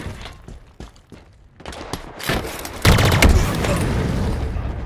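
Gunfire in a Halo Team Slayer match, starting as scattered sharp shots and building into dense, loud bursts of rapid fire and booms.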